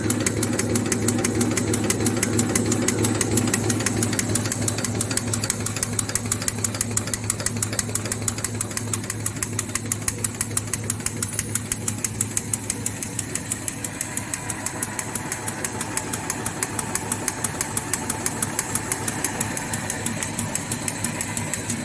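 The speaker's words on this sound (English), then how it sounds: "We're running at the full speed." A paper napkin and serviette folding machine with a 500 folding cylinder runs at full speed, a loud continuous mechanical drone with rapid regular clattering pulses throughout.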